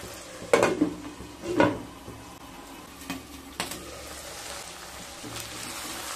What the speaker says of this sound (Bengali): আবারও লো টু মিডিয়াম স্টিমে মশলাগুলোকে খুব ভালোভাবে কষিয়ে নেব।